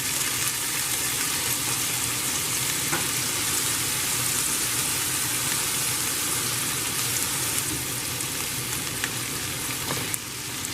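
Mushrooms and onions frying in a skillet for a diner patty melt, a loud, steady crackling sizzle filling the whole stretch with faint clinks of stirring and no talking.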